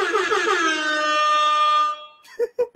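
A loud air horn sound effect blares continuously for about two seconds, then cuts off, followed by a few short bursts of voice.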